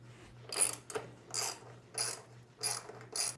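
Rapid clicking ratchet bursts from a hand tool with a 6mm Allen bit, loosening the passenger foot peg bolt on a KLX 300 motorcycle: five short runs of pawl clicks with brief pauses between, close and fairly quiet over a faint steady hum.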